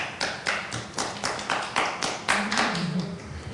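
An audience claps in a short burst at a Buddhist talk on the Vajra Sutra, roughly a dozen distinct hand claps heard close by, uneven and sparse rather than a full ovation.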